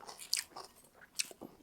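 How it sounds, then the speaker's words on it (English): Crunchy chewing of fresh mayo-free cabbage coleslaw, a few close, quiet bites with crisp crackling at the start and middle, no talking. "I don't know if the mic is picking it up, but very crunchy"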